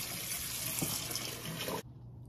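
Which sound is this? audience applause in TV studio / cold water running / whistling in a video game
cold water running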